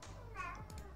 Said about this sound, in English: Larry, stop meowing right at the door